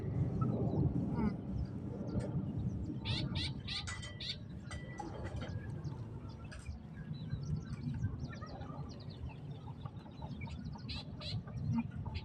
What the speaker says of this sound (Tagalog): Hindi yan ibon. Chicken yan, chicken.